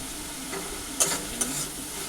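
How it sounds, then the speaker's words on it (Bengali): Chital fish muitha being sautéed with salt in hot oil, a steady sizzle with a couple of sharp stirring scrapes partway through. "এখনো কষানো চলছে।"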